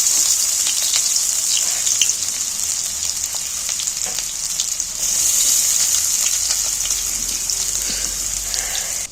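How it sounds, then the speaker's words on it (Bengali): Small chopped onions sizzle in hot oil in a pan, a loud steady crackling hiss that continues without a break and swells slightly midway, with no talk. "তেলটা গরম হয়ে গেছে এখানে আমি ছোট ছোট করে পেঁয়াজ কেটে রেখেছি পেঁয়াজগুলো তেলের মধ্যে তুলে দিচ্ছি"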